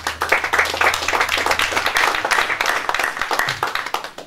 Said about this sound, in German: Es ist auch selten in der Pressekonferenz Applaus